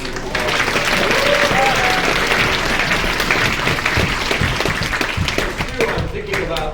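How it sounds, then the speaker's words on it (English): An audience in a theatre gives a warm round of applause for children performers, a dense, loud, sustained clapping that fills the room from start to finish. "Can you give those children another warm round of applause?"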